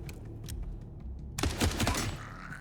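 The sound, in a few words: gunfire in a video game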